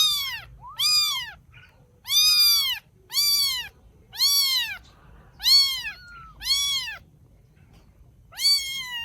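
Rescued baby kittens meow repeatedly, about eight clear high-pitched cries in a loose rhythm, close and fairly loud over faint background noise.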